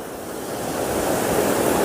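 A river rushes in a continuous broad roar beneath a swinging suspension bridge in the mountain valleys of Mandi, Poonch, with cold deep water. The steady wash is loud and fills the whole short stretch with no voices.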